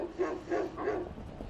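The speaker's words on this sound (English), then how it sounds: "Sounds like a big dog. Oh, yeah, he's in Newfoundland, huh?" Three deep woofs from a big Newfoundland dog, evenly spaced and fairly close, with nothing else heard between them.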